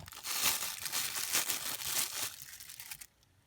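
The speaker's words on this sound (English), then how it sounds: "The knife comes in a little plastic bag. Pull that out there." Continuous crinkling of a thin plastic bag, close and fairly loud for about three seconds, then stopping abruptly.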